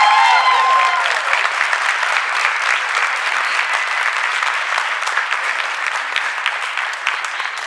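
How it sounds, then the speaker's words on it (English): Audience applause fills the hall at a high school stage production of the comedy Rumors at Northeast High School, a dense, loud, sustained wash of many hands clapping steadily, with faint crowd murmur beneath. "Give him a round of"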